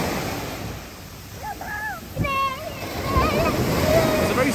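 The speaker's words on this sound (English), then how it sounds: "we're by the ocean" Ocean waves wash onto a small beach in Malapascua, Philippines, a constant surf rush with rising swells and a few high tonal chirps over it.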